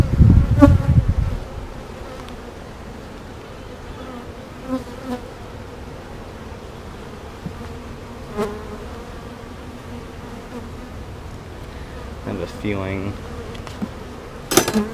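Honeybees buzzing around an open beehive during a frame inspection, a steady close drone of many bees throughout, with a few brief knocks and bumps from handling the frames.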